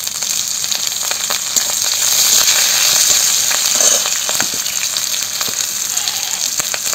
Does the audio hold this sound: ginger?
yes